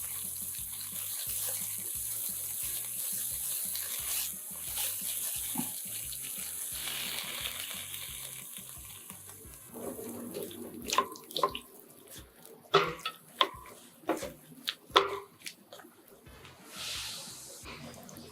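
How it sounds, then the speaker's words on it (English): Water runs and splashes into a pan of stir-fried tomatoes and harvested mung beans, a steady pour followed by irregular sloshing and clinks near the end, fairly soft with no talking. "Add the harvested mungbean and water"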